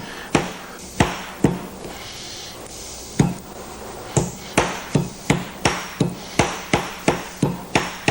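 A deer cutlet pounded with a meat tenderizer, a few scattered blows followed by a steady run of sharp, even thuds roughly twice a second, loud and close with no talking.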